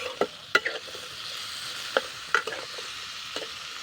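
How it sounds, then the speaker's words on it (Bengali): Broccoli frying in a pan with salt, turmeric and chilli powder: a low continuous sizzle broken by sharp scraping clicks of a spatula stirring, several distinct knocks spread across the stretch, no talking. "এটা দিয়ে আমি আবারও একটুখানি হালকা করে ভাজা করে নেব 2 মিনিট মতো"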